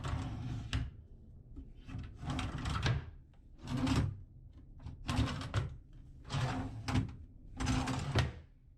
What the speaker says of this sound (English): There are 3 drawers for storage.